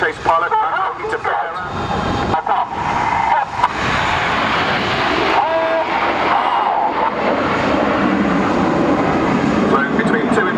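Red Arrows RAF jets fly in Concorde formation, their engines a broad, continuous roar that swells and holds steady, loud and close, with a voice faintly present underneath.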